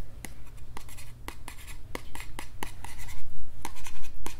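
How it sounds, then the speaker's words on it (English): A pen writing on paper, close and clear, with quick scratchy strokes in an uneven rhythm that grow a little louder toward the end, with no voices. "I love the sound of writing"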